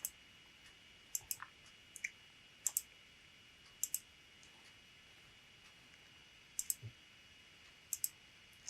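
Computer mouse clicks during website landing page design work, sharp isolated clicks arriving singly and in quick pairs at irregular intervals over a faint steady background hiss, close and quiet.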